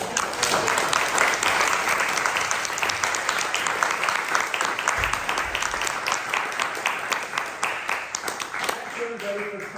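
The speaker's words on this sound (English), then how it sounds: "Let's show them all a round of applause." An audience claps steadily in sustained applause, a dense patter of many hands that continues throughout with little variation.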